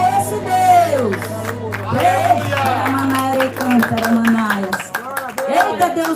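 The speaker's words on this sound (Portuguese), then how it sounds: "Palmas pra esse Deus." A church congregation claps and cheers during a communion service, with shouts and whoops rising over the clapping and voices calling out throughout.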